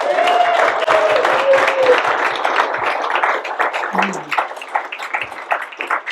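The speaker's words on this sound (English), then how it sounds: "Let's give him a round of applause." Audience applause at a museum gallery talk, a dense wash of clapping that holds steady and then thins out toward the end, with a brief voice or tonal sound near the start.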